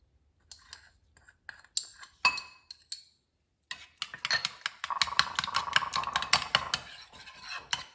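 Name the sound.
mixing omelette eggs with garlic salt in bowl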